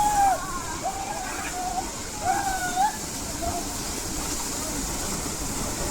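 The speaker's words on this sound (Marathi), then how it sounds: "हा पवार मजा घेतोय पाण्याची धबधब्याची पूर्ण मजा घेतोय बघा" Steady rushing water fills the whole clip, a waterfall in Kolad, Konkan pouring and splashing, with a few whistling or shouting voices rising over it.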